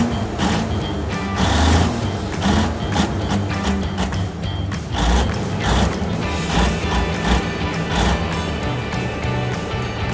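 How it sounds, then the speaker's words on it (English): A feller buncher cuts and stacks trees in a logging operation, a dense, loud mechanical churning with creaks, clanks and low engine rumble running steadily throughout. "Feller buncher. Cuts and stacks trees and logging operations."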